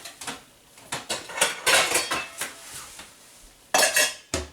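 A metal lid is set on a pot of eggs in water heating on the stove, giving a run of close, sharp clanks and clatters, with quiet gaps between the knocks.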